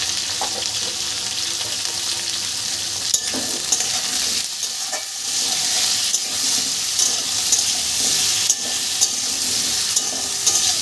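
Potatoes seasoned with salt and turmeric fry in hot oil, giving a continuous close sizzle with bursts of crackling and a few stirring clatters, and no voices.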